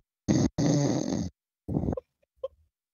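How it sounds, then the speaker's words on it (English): A sleeping person snores in a few loud, rough bursts, two long close snores followed by a shorter one and a faint snort, with silence between. "he's starting to snore louder now"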